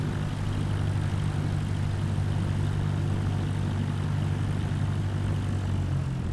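Steady droning propeller engine of a Cessna light aircraft taxiing at an airfield, a constant low hum heard from inside the cockpit with no talking.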